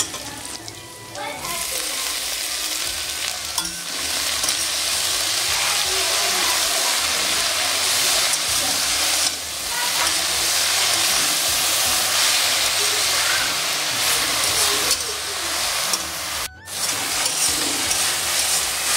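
Chopped jute leaves go into a pan with chopped onion and garlic, frying with a loud, steady sizzle while being stirred, with scraping bursts and a sharp knock near the end.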